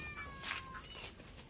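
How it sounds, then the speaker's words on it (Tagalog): A cat mewing in a high, thin kitten-like voice, a few short faint calls against quiet rural outdoor background. "boses ni Cleo parang kuting na kuting"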